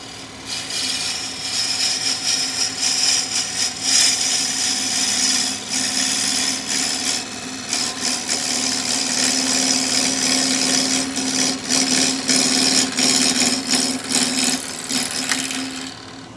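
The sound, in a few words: wood lathe turning ipe with a sharp gouge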